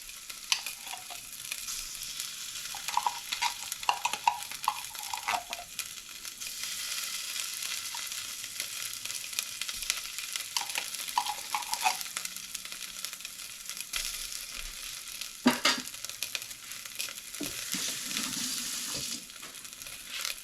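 Braised lamb shank sauce with tomato paste bubbles and sizzles in a pan, a continuous close frying hiss broken by scattered clinks and stirring scrapes.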